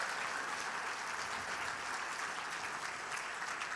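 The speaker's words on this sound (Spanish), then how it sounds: "Denle un aplauso al Señor." Steady, dense clapping from a large church congregation fills the whole stretch, loud and continuous without pause.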